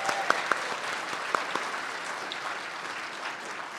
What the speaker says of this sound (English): can I get some cheers for our graduates right now?